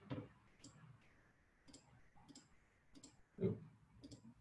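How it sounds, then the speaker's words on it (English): A computer keyboard clicks in short, uneven bursts of sharp keystrokes, close and fairly quiet, with no one talking. "now my keyboard's acting up"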